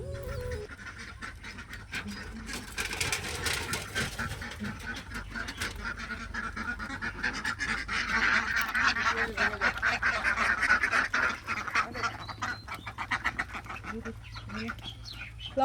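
A flock of ducks quacking and honking together, rising into a loud noisy chorus in the middle, with some background rustling.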